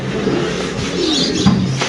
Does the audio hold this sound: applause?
no